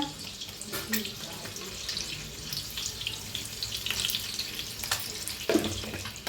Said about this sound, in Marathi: तसे आपले अंडे कसे फ्राय व्हायला लागले ते